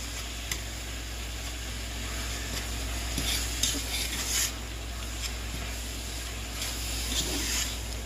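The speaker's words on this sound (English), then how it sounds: "I'm just gonna give that a good mix." Goulash being stirred in a large pot, a steady scraping and sloshing with a soft sizzle underneath, close and moderately loud throughout with no talking.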